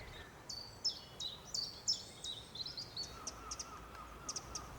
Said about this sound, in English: Just the birds, the sound of the birds, the trees.